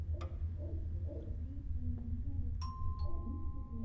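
A doorbell chimes in a horror video game, a short ding-dong tone ringing out late over a low ambient drone after a few faint clicks.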